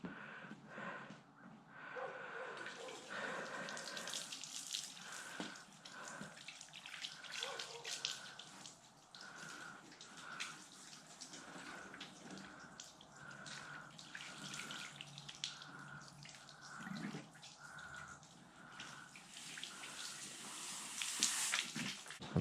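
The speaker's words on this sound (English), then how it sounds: "Now just pour it on there and let it drain off." Super Clean degreaser poured over an engine near the exhaust and draining off, a continuous soft splashing and trickling of liquid with faint drips, fairly quiet and steady throughout.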